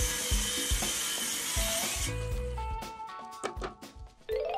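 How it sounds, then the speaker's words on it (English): A power saw cuts plywood into a 16-inch-wide strip for a school bus tiny house build, the buzzing cut overlaid with clicks and knocks, then sharper taps and a short whir near the end. "now I'm cutting a third piece to 16 inches wide so that I can make all of my pieces for the middle"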